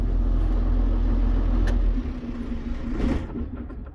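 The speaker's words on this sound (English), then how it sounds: "I'll shut the tractor off." A tractor engine idles with a steady low rumble and hum, close and constant, before dropping off and settling as it is throttled down toward shutdown.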